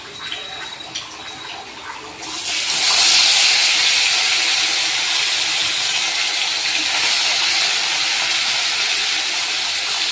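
Hilsa fish pieces go into hot oil in a pan, setting off a sudden loud, steady sizzle that starts a couple of seconds in and keeps hissing evenly to the end, with no talking.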